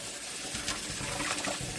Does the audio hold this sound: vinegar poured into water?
yes